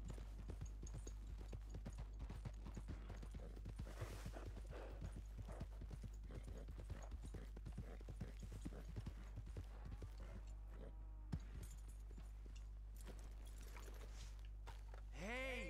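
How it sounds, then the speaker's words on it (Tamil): Horse hooves clip-clop at a steady running pace in the open-world Western game Red Dead Redemption 2, loud and continuous against game sounds with a brief voice in the background. "என்னடா குதிரை ஓடுது ஏன்"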